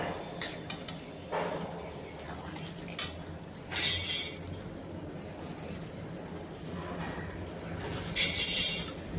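Potato and banana flower being stirred into cooked Gobindobhog rice and spices in a pot, with soft clinks and scrapes of a utensil against metal, several brighter clatters scattered through a quiet, steady background.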